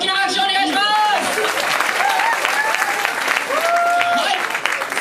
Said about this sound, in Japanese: おしゃれに決めてくれたすべてのケンクルにもう一度大きな拍手をお願いします